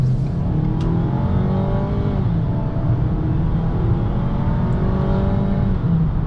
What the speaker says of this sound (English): A quick little acceleration here for you guys.